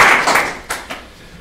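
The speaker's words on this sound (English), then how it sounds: "So could I ask everyone to give Tom a hand" A short burst of audience clapping for Tom at an informal Commonwealth Day gathering, a few loud close claps fading quickly within a second and a half.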